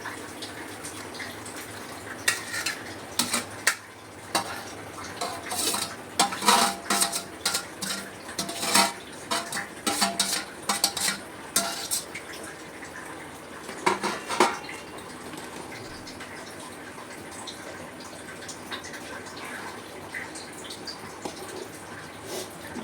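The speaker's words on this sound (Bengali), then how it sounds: "এবার আমি একটুখানি ভালোভাবে একটু নাড়িয়ে নিলাম, মিশিয়ে নিলাম ঝোলের সঙ্গে।" Spoon scraping and clinking against a pan while chilli chicken and pakoras are stirred into the gravy, with steady irregular metallic taps and faint bubbling of the thin liquid throughout.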